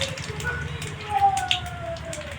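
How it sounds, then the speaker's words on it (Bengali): Cumin seeds sizzling in hot mustard oil in a pan for a mushroom and potato fry, a soft steady crackle close by, with a voice speaking over it. "তেল গরম হয়ে গেছে আমার সরষের তেল"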